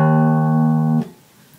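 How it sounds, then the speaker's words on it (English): A guitar's low sixth string, tuned down a half step, rings as a single steady sustained note for about a second, then is cut off abruptly, leaving quiet room noise. "The sixth string will sound like this."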